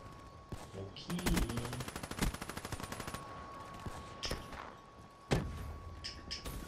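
Automatic gunfire in the shooter game Black Ops 3, a rapid burst of loud, close shots followed by scattered single bangs and game effects.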